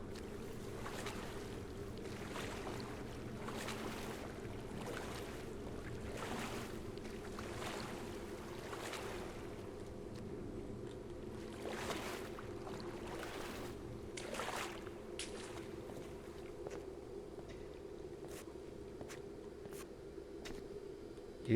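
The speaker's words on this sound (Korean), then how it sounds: "와 물소리도 무서워" Quiet, dark water ambience in an indoor swimming pool in the game Pools: a low steady hum and gentle lapping with soft splashes and faint drips, no voices.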